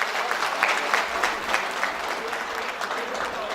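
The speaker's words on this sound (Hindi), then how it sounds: "एक बार जोरदार तालियां आदाश्री के कार्यक्रम के लिए।" A crowd at the Aadhar Shree Paints annual award ceremony in 2016 breaks into applause, many hands clapping in a full, continuous, fairly loud roar that holds steady from start to finish.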